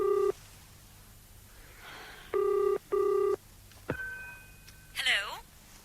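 A landline call is placed. Bursts of the double ring tone repeat in a steady rhythm, faint and a little distant, followed by a click and the sound of the receiver being picked up. A voice is heard briefly near the end.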